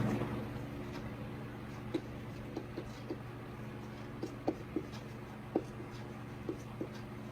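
Chalk or marker writing on a board in a chemistry lecture: sparse, irregular taps and short strokes spread over several seconds above a steady low room hum, fairly faint with no talking.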